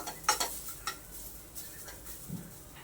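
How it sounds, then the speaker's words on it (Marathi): Onion sautés in a kadai before chicken is added, with a few clinks of a utensil against the metal and a soft steady frying hiss underneath. "कांदा थोडा परतून घ्यायचा कढईमध्ये"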